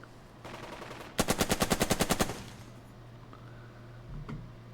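Machine-gun fire in the Burden of Command war strategy game: a single rapid burst of about a dozen evenly spaced, sharp shots lasting roughly a second, loud against a low steady hum, followed by a faint tick.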